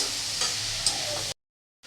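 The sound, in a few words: ridge gourd and egg being stir-fried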